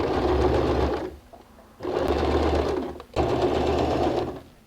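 A domestic sewing machine stitches through recycled denim for a homemade bag, running in three steady, close, whirring bursts separated by brief pauses.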